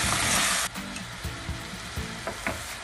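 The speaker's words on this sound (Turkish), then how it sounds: "patateslerimi de küp küp doğrayıp hazırlamıştım ve 1 kilo bezelye içimi de içerisine ilave ettim ve karıştırıyorum" Cubed potatoes and about a kilo of peas frying in a pot, a dense close sizzle with a loud opening burst, then softer frying broken by repeated spoon-stirring scrapes; no voices.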